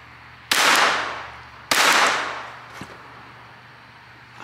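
Two sharp gunshots at an outdoor shooting range, about a second apart, each with a ringing echo that trails off, followed by a faint thud and a quieter click near the end.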